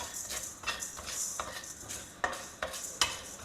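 Dal and spices dry roasting in a pan for Indian khara bhath, stirred with a utensil that scrapes and clicks against the metal in irregular strokes, with a few sharper taps near the end.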